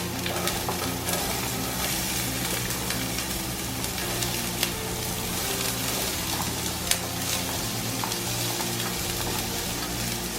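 Onion sautéing in hot cooking oil in a home kitchen while preparing mongo with ampalaya, a steady continuous sizzle with occasional stirring scrapes, close and even throughout.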